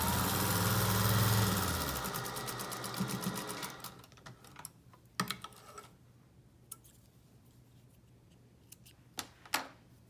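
A sewing machine stitches a fabric face-mask pocket, running loud and continuous at first, then slowing into faint, scattered clicks and taps as the stitching stops.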